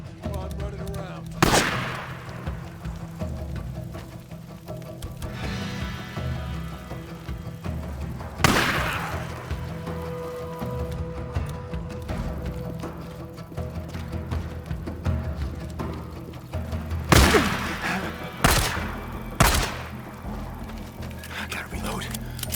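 Loud gunshots in the video game Days Gone, scattered single bursts with a cluster near the end, over game ambience with voices speaking between shots.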